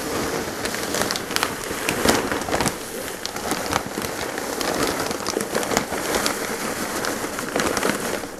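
Pumice stones poured from a bag into a container give a steady, dense rattling and pattering hiss, like gravel or heavy rain, continuing without a break and with no voices.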